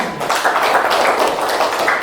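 A classroom of students applauds a presenting group, producing a short, dense burst of clapping that stays loud throughout.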